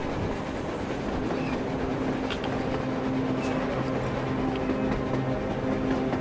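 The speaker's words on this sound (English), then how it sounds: "A damn train on the surface!" A train rolls along rails in the video game Metro Exodus, a steady rumbling drone with faint rhythmic clatter, continuous and moderately loud with no speech over it.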